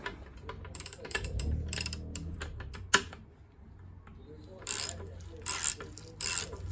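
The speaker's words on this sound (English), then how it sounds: "So there's a 19mm socket on here." A ratchet turns a 19mm socket on the front wheel of a Mountain Buggy Urban Duo stroller, giving close bursts of rapid clicking, then a pause, then a few more short bursts.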